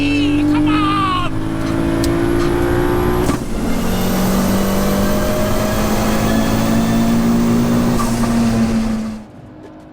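A 650HP Audi S2 and a 600HP Audi S5 drag race down a runway, their engines roaring loud and continuous with rising pitch as they accelerate, then falling away as they pass into the distance.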